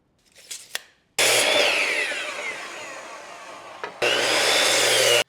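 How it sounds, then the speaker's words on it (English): A saw cutting wooden boards into six-foot sections for chicken coop walls: after a few brief knocks, a loud, close, steady buzzing cut runs for about three seconds, pauses a moment, then resumes strongly. "we're going to measure and cut the 6-foot sections"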